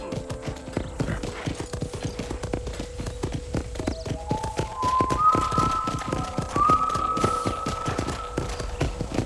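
A horse clip-clops at a steady walking pace through a ranch corral in the Red Dead Redemption game on Xbox 360, hooves close and rhythmic, with a brief whinny partway through.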